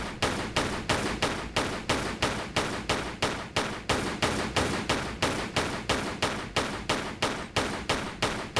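Rapid, evenly spaced gunshots fire in a steady burst of roughly twenty rounds over several seconds, loud and sharp with no talking, during a shootout in a Tomb Raider level-editor game level.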